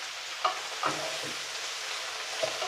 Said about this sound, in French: Je mets mes poireaux, hop, là-dedans. Et on va laisser mijoter, on va faire suer pendant 5 minutes.